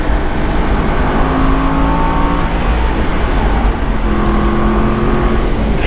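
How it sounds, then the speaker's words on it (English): An Aston Martin Vantage V8 Roadster accelerating hard, its engine revving with rising and falling tones over heavy wind and road roar, loud and continuous from on board. "Lean on that gas just a little bit."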